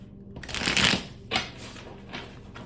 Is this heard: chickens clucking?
no